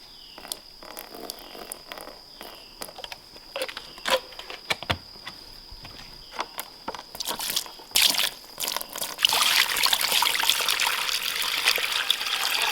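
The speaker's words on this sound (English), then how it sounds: "I do put the apple cider vinegar in their water here too" Water poured into a dish for farm pigs on a morning chore round, a steady trickle and slosh that grows louder and fuller toward the end, with small clanks and rustles earlier.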